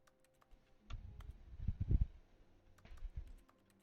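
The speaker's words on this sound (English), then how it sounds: "I'm clicking everything to make him annoyed" Soft keyboard and mouse clicks in The Stanley Parable video game come as a quiet, irregular flurry of taps that bunch together briefly in the middle.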